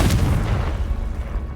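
A Confringo fire-blast spell in Hogwarts Legacy bursts with a deep, booming explosion that rumbles and fades over a second or so, close and heavy.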